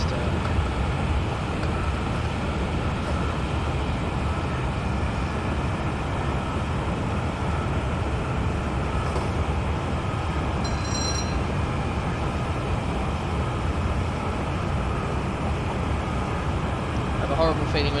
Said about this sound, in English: They did take the sounds from the real APT though, from what I've heard.